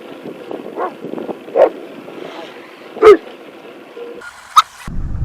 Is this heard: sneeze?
no